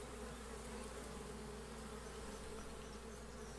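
A dense, continuous hum of many honeybees buzzing, steady and moderately faint, with no voices.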